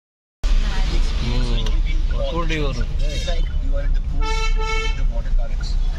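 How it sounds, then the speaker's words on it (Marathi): A car is driven along a road while its horn sounds in short tonal toots near the end, over a low engine rumble, with voices talking inside the vehicle. "बाबा चालवतोय गाडी."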